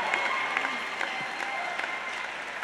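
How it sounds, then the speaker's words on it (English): An audience at a 2014 adult education high school graduation applauding the graduating class, a dense continuous patter of many hands with faint crowd murmur mixed in. "It's okay, clap."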